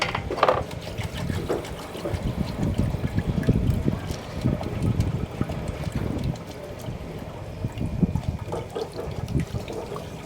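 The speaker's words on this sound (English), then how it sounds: "So this is how you sieve it." Palm nut pulp being sieved with water for Ivorian palm nut soup: continuous sloshing, splashing and gurgling of liquid close by, steady and fairly loud throughout with irregular wet bursts, no talk.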